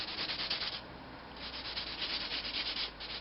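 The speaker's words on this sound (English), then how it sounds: "I'm going to hit that a little bit more sandpaper in a couple of areas here." Sandpaper rubbed over a colored wooden woodturning, close, steady scratchy rasping in several back-and-forth passes with a brief lighter lull partway through, alone without talking.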